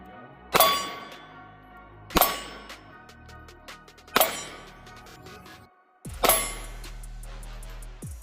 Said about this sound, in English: We're going to go for the top of that red target right there and see if we can get just a little bit better shooting on it